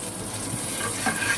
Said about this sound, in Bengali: এখানে মাছটাও ভাজা হয়েছে।